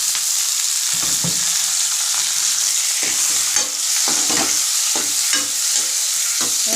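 Tomatoes sautéing in a pan: a bright, constant sizzle broken by repeated scraping and clattering as they're stirred.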